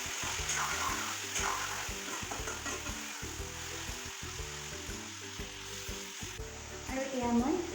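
Chicken meat frying in a pan for a low-spice chicken curry, a continuous soft sizzle with intermittent scraping and stirring knocks, fairly quiet and close, with no talking.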